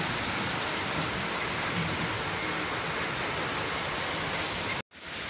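Steady heavy rainfall outside, a loud even wash of drops on surfaces that cuts off abruptly near the end before faintly resuming, with no talking.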